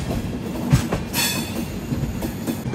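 An AC double decker express train runs on tracks between Visakhapatnam and Tirupati, heading toward Renigunta. Its steady rolling rumble carries faint wheel clicks and a brief rise of rail hiss, with no talking.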